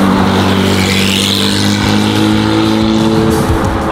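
A Porsche drives past close by with a loud, steady engine drone and strong low harmonics that hold for a few seconds, heard over ambient road noise from inside another car.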